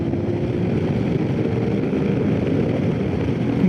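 A 2021 Royal Enfield Himalayan BS4 motorcycle engine held at full throttle while climbing a hill at speed, a steady loud drone blended with heavy wind rush, continuous with no talk.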